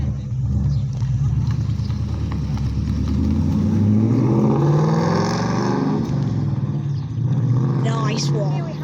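An older Ford Mustang at a classic car meet rumbles loudly and close by, its engine note shifting and rising in revs across the clip.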